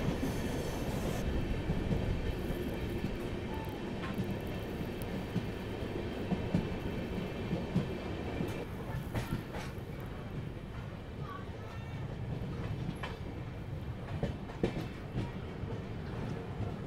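The Chennai Rajdhani Express runs on its rails, heard from inside a first AC coach as a steady, dense rumble. Faint rhythmic wheel clatter and occasional squeals rise through the constant roar.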